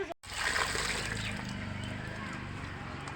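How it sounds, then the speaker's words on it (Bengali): Water straining out of soaked, rubbed urad dal (kolai) in a basket, loose husks floating, heard as a steady close splashing, sloshing pour that runs for about three seconds after a brief silent gap. "এই খোসাগুলো ঝুড়িতে জলটা পুরো ছেঁকে নেব"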